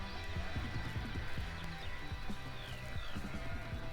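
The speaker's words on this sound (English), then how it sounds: "revealing the sounds of an open field with sheep calls" Sheep calling in an open field on an album: several short, overlapping bleats are scattered across the clip over a steady background hiss, at moderate distance.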